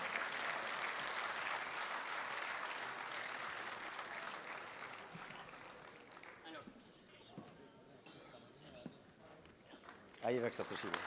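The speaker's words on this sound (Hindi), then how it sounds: "आपकी बहुत सारी तालियों में मैं गुजारिश करूंगा डॉक्टर पीरज़ादा कासिम से कि तशरीफ़ लाएं" Welcoming a guest at a Republic Day kavi sammelan and mushaira, the audience claps loudly at first, then the applause thins and fades while a voice talks and scattered knocks and shuffles follow.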